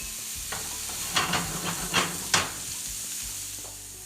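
Onions and mushrooms sauté in a hot pan with a steady close sizzle, broken by several scraping stirs partway through.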